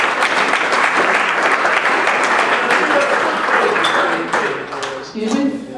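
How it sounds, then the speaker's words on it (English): Gala guests give a loud, close round of applause, dense clapping that holds steady and then thins out at the end as a voice comes in. "Let's give her a round of applause."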